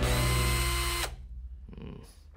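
A power drill whirs loudly and steadily for about a second, then cuts off abruptly, leaving faint handling and shuffling noises.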